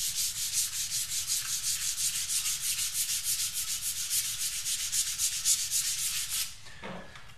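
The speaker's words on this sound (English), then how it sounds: "So I'm ready for the next step, and that is to start level sanding." Steady rhythmic level sanding of a hard UV-cured polyester resin clear coat on a guitar, a rapid back-and-forth rasp repeating evenly, close and continuous, then stopping near the end with a brief soft knock.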